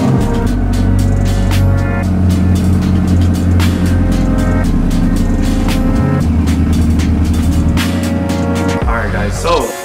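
A 1500-horsepower hypercar engine rumbles loudly and close by with a deep, steady drone, shifting pitch around midway and again near the end as it revs.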